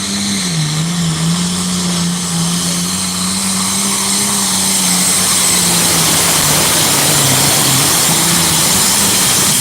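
A pulling tractor's engine roars loudly and steadily at a tractor pull championship night run in Rockwell, Iowa, a sustained droning blare that holds its pitch with slight wavering throughout, without any talk.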